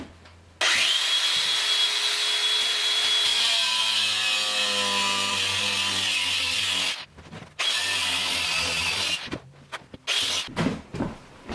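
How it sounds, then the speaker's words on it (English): An angle grinder cuts into a termite-damaged wood stud in a load-bearing kitchen wall, a loud, sustained whining grind lasting several seconds, then stopping and restarting in shorter bursts, with no talking. "I'm going to have to get a bigger wheel on this grinder because I can't get through all the way"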